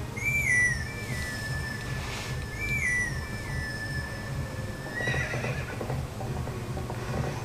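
A clay whistle in the video game The Legend of Zelda: Twilight Princess plays two short wavering melodic phrases, clear and bright over a low steady game background rumble.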